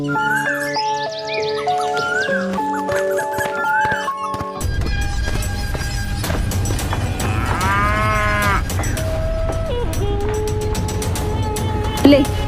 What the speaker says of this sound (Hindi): जब भी घास चरकर आती तो रंभाते हुए भगवान को याद करती